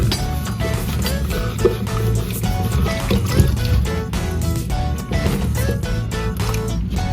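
Leftover water drains from the hose at the bottom of a toilet tank's fill valve, a continuous splashing trickle heard up close throughout, with no voices.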